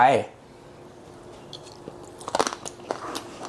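Crunchy herb-roasted pork cartilage being bitten and chewed, a burst of close crackling crunches late on after a quiet pause, following a brief spoken word at the start.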